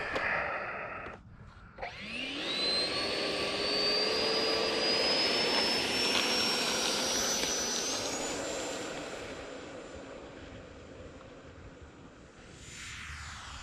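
FMS Rafale 64mm electric ducted fan model jet running on the ground at about 70% throttle, a loud steady high-pitched whine that rises in pitch early on, holds, then eases slightly, with no voices.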